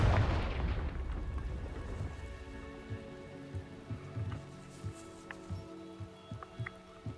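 A Confringo blasting spell fires in Hogwarts Legacy with a heavy, booming burst at the start that fades into crackling, rain-like debris and scattered small pops.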